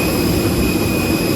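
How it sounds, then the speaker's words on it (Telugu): Huge jet engine turbines of a large passenger airliner emit a steady loud roar with a constant high whine, unbroken and close, with no voices over it. "Huge turbines."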